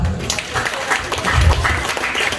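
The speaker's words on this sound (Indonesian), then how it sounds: "Tepuk tangan dong." Brief burst of audience applause at an Islamic Maulid lecture, steady close clapping filling the short stretch with voices mixed underneath.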